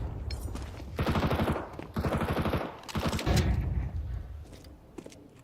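Rapid SMG fire in a Counter-Strike-style match, arriving in several dense automatic bursts of varying loudness with short pauses between them, some close and some a bit more distant.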